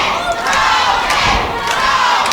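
A wrestling event crowd roars and chants loudly in support of the wrestler ProPain, with sustained massed shouting and cheers that swell and dip.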